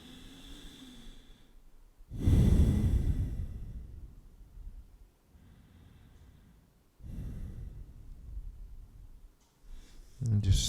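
Slow, deep yoga breaths during a forward fold come as two long, strong exhalation-like rushes, close to the microphone, with quieter breathing between them and no clear talk.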